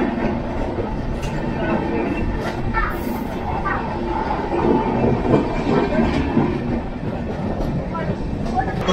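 Ernakulam Duronto Express standing at busy Surat railway station during a short stop, a steady broadband rumble of train and platform crowd noise throughout, with faint voices mixed in.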